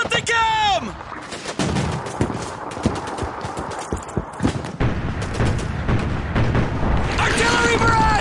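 An artillery barrage in the video game Call of Duty 2: booming shell blasts and gunfire crash repeatedly and loudly, with whistling incoming rounds at the start and end and soldiers shouting over the chaos.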